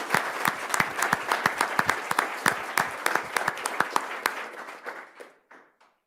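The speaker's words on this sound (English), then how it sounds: "Round of applause." A board-meeting audience applauds first-place maintenance team winners: a dense burst of sharp, close claps that thins out and fades to a few scattered hand claps by the end.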